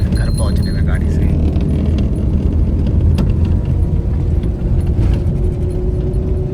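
Interior of a booked car on a short ride home near Dwarahat, with a steady low road and engine rumble throughout, light rattles and jingles, and muffled voices in the background.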